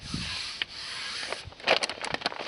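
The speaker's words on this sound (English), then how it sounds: "take your handy dandy dual action sander and give it a good going over" A dual action sander runs over the moldboard of a Massey Ferguson No. 88 plow, a steady close rasping hiss followed by uneven scuffs and bumps as the pad shifts.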